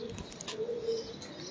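Sialkot pigeons cooing nearby in a steady, low murmuring call that runs through the whole moment, with faint chirps and background noise.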